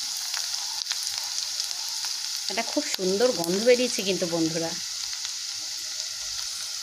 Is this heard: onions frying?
yes